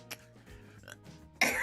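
A person coughs right after gulping down a big mouthful of water, a few faint throat sounds followed by a sudden loud, harsh cough burst at the end.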